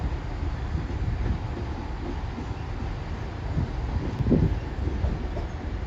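A Pendolino train pulls into platform 1 at Carlisle station with a steady low rumble of wheels and a rushing, windy hiss, swelling slightly partway through with a few faint rail clanks.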